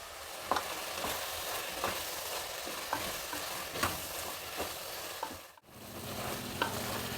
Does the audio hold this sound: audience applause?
no